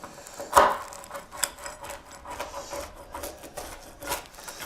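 A cutter slices through a pizza with rough, scraping, rasping strokes, one sharper crunch at the start and softer rubbing passes after, close and fairly quiet with no talking.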